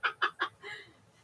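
A mother duck calls from nearby, three quick clucking quacks followed by a softer drawn-out note, moderately faint against quiet indoor background.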